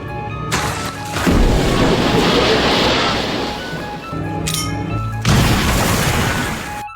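Two heavy hand grenade explosions in a film thriller, each a loud booming blast with a long rumbling roar, the first about a second in and the second near the fifth second.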